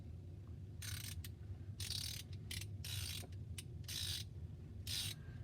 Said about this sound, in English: it does have the nice sounding ratchet to it